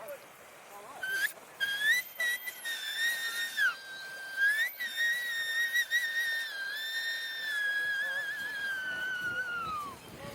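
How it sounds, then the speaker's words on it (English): A small natural ball whistle, a Māori taonga pūoro made from a hollow seed pod with its tip broken off, is blown in long, wavering, high-pitched tones with brief breaks and pitch slides, close and clear. "you have like this kind of little whistle, really, like a little ball that whistles."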